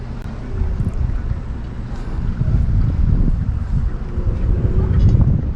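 A rubber dinghy runs on the water off Guadeloupe, a loud low rumbling drone mixed with heavy wind buffeting the microphone, continuous and close throughout.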